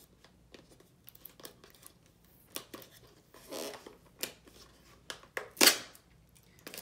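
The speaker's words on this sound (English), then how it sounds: "I'm gonna try to get this open. Cause it got tape on it." Tape-sealed package being pried open by hand: soft crinkling, scratching and tearing of plastic and tape, a series of quiet, close, irregular rustles ending in one sharper rip.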